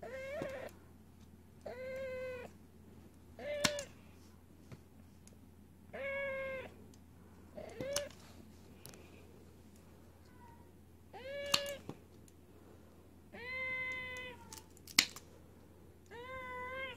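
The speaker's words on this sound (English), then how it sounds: "And this is my cat, Allie." A domestic cat meows repeatedly at home during a vet tech demonstration, about eight clear, close meows spaced a second or two apart over a steady low background hum, with no talking.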